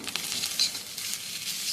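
Katla fish egg fry sizzling steadily in a pan while being stirred, a continuous close, bright crackle of hot oil with faint scraping, no voices.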